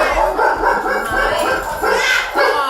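A dog barks several times indoors, loud and close, in short bursts mixed with yips while a person talks nearby.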